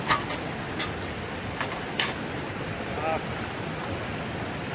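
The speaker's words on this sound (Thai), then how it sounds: "แม่น้ำนะคะที่ไหลมาจากน้ำตกแม่สาน้อยนะคะ" A river fed by Mae Sa Noi waterfall near Chiang Mai rushes in a steady, broadband wash, with a few brief knocks and a faint voice over the flowing water.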